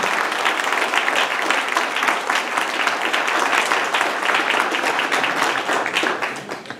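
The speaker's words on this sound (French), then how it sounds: "j'aimerais que tout le monde applaudisse Joël" A crowd at an evening public meeting in the Allégora hall applauds Joël, the head of a local election list, with sustained, even clapping from many hands that tapers off at the close.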